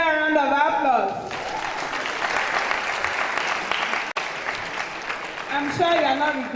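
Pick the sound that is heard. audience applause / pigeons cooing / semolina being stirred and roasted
audience applause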